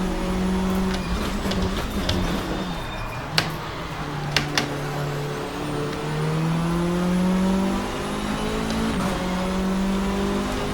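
Racing car engine in a racing video game, revving up and shifting through gears with rising and falling pitch, loud and close, with a few sharp knocks from a damaged car and no talking.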